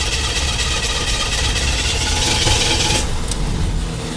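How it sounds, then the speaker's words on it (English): A 1985 Chevy engine with a misfire runs at idle, a loud, close, steady rumble with a rough vibrating texture and no voices. "I'm going to start the engine and reach inside of here"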